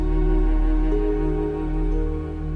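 Sustained, rich Wurlitzer theatre organ chords with steady held tones and a slow shift in harmony, full and resonant throughout, played in a studio.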